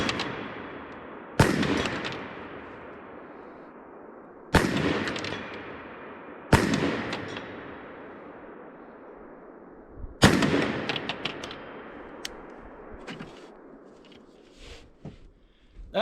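Four loud rifle shots from a Smith and Wesson M&P10 fired at targets, each a sharp crack with a long decaying echo, spaced irregularly, followed by a cluster of quieter, fainter pops and clicks near the end.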